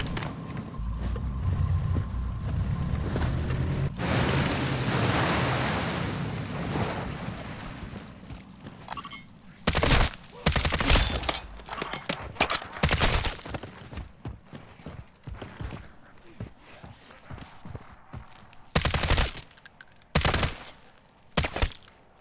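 Rapid turret gunfire erupts in a Call of Duty zombies game, dense bursts of shots and booms that go on in irregular rapid volleys over a rumbling background.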